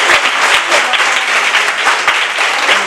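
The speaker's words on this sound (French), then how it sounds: "Ça s'applaudit, ça." Children and adults at a charity lunch clap together in a short, dense burst of applause. The sound is close and loud and cuts off abruptly at the end.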